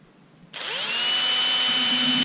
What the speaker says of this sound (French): Ensuite, il ne vous reste plus qu'à percer.